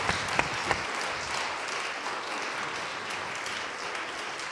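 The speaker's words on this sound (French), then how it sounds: "je voudrais d'abord qu'on vous applaudisse tous les deux pour vos interventions et pour vos analyses." An audience applauds two podcast guests at a live recording, a steady moderate wash of many hands clapping, with a few sharp individual claps standing out near the start.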